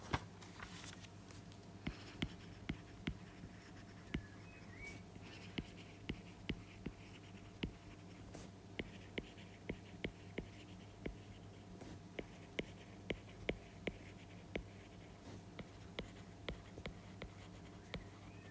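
Pen writing on paper at a desk, a faint steady run of small scratches and taps spread across the whole stretch, close by and alone in a quiet room with a low hum.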